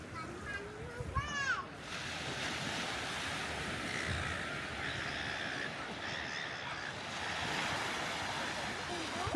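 Surf at Manly Beach in Sydney on a winter day, a steady broad wash of small waves throughout, with crowd murmur, wind buffeting the microphone and a brief squeal near the start.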